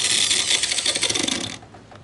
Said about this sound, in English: I have the grinder. Runs the grinder with ease.